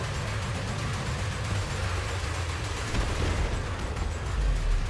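Multi-cannons fire in the Elite Dangerous video game against an Anaconda ship, a dense rapid rumbling barrage of continuous shots with booming low impacts throughout and no voices.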